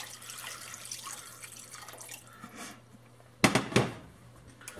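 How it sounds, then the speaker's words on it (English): Beef stock goes into a pot for a braised short rib ragu: quiet kitchen clatter gives way to a short, sudden splashing pour near the end, close by and without speech. "Now I'm going to add our beef stock."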